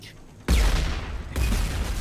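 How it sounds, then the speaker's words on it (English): Loud explosion from the video game Mass Effect 2, a sudden broadband blast that bursts in after a quiet moment and rumbles on, with a second swell of the blast roaring up about a second later. "I like the fact that the explosion waited for you to make your response before it went off."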